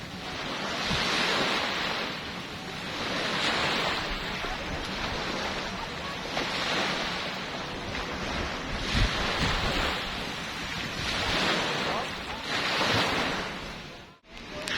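Ocean waves wash onto the beach at The Reef Island Resort on Mactan Island in surges of a few seconds each, with steady wind noise over the microphone.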